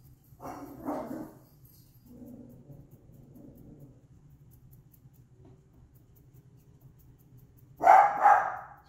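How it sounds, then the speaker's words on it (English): Small pet dog barking indoors during a miniature figure painting session: a couple of sharp yips early, softer muffled woofs in the middle, then a louder double bark near the end, each brief and close. "Sorry about the dog."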